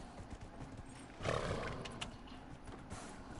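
A horse trots in the fantasy video game Dragon Age Inquisition, with rhythmic hoof clip-clops over game ambience and a louder burst of movement partway through the short stretch.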